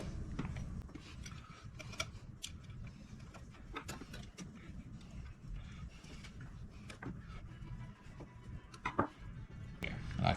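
Bolts for a double DIN radio mount in a 1982-92 Chevrolet Camaro are tightened, giving faint, irregular ratcheting clicks and small mechanical rattles over a low background hum.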